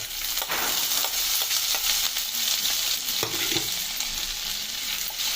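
Garlic and ginger frying in a pan over a low flame for palak paneer, a steady close sizzle with occasional stirring scrapes and clicks throughout, no talk.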